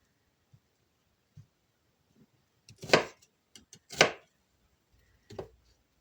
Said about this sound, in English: I'll just cut that so we can have some onions with our meatballs.